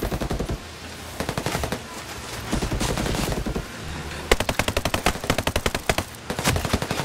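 In Tom Clancy's Ghost Recon Breakpoint, a drone fires rapid bursts of automatic gunfire, loud close rattling volleys separated by short pauses, with one dense fast burst near the end.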